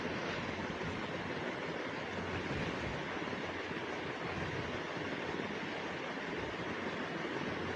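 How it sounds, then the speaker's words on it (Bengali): Three eggs frying in a pan give a steady, loud, unbroken sizzle with an even crackle that runs the whole time, with no talking over it. "ভালো করে ভেজে নিচ্ছি ডিমটাকে"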